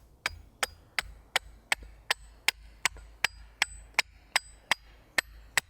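A medium Viking-style spoon carving axe chops into wood in a brisk, even series of about fifteen sharp, close strikes, each a crisp knock with a short ring, and no talk.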